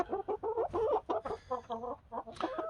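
Cold-weather chickens cluck in a coop, a close run of repeated throaty clucks and short calls in quick uneven bursts with no talk over them.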